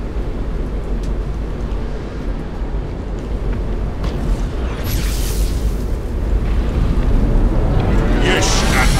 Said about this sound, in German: So, der explodiert.